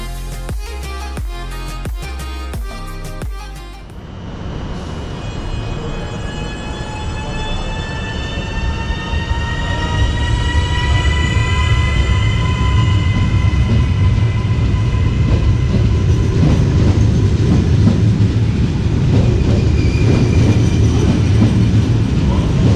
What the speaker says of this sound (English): now we can take a look at the departure of the Hitachi Caravaggio rock in Genoa